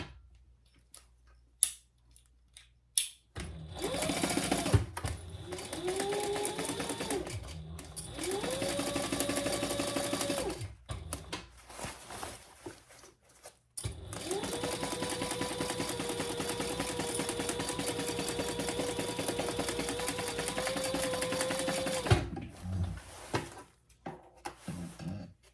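A sewing machine stitches a tote bag lining closed, running in two long steady bursts of rapid mechanical whirring separated by a short pause, close and clear with no talking.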